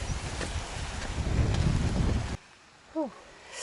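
Wind buffets a microphone out on the Pennine Way moors near Kinder, with a steady roar and low rumble that cuts off abruptly, leaving a quiet stretch with a faint short whistle-like chirp.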